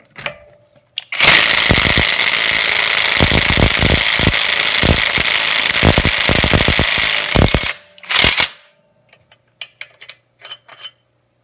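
Kimo 20V brushless impact driver removing a 13/16-inch lug nut on a Mustang: a loud whirring hammer-rattle of about six seconds, then a brief burst followed by quiet clicks and handling noises.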